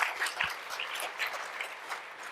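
An audience at a lecture on drug development gives a faint, distant round of applause, a soft patter of claps that keeps going steadily throughout.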